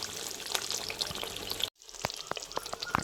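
Fish curry bubbles and sizzles softly in a pan over a low gas flame, a steady close crackle broken by a brief cut, then scattered pops and light clicks.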